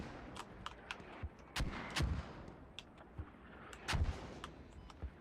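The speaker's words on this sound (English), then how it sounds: "Mortar." Mortar and gunfire in the tactical shooter Squad, a series of sharp distant booms and cracks scattered irregularly across the clip, a few heavier thuds standing out against quiet background.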